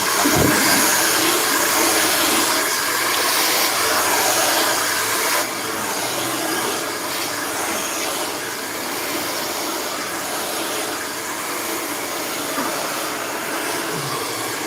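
A hair dryer blows steadily while a bob haircut is being styled, giving a loud, continuous airy roar that drops slightly in level partway through and then holds.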